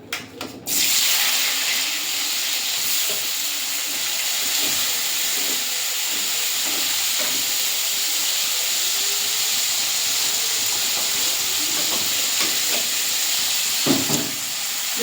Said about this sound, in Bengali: কড়াইতে তেল দিয়ে দিয়েছি, গরম হয়ে গেছে। এবারে দিয়ে দেবো পেঁয়াজ, রসুন আর আদা একসঙ্গে দিয়ে দেবো।